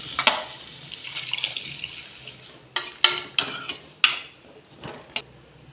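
Running water splashes and trickles into a metal pan of cooking chayote, with a few sharp clinks of cookware between pours.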